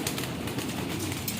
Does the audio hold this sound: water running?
no